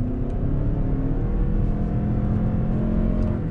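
A hybrid car's engine revs up steadily as the vehicle accelerates hard on kickdown, a continuous rising drone heard from inside the cabin.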